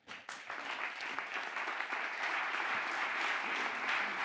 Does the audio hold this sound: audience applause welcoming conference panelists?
yes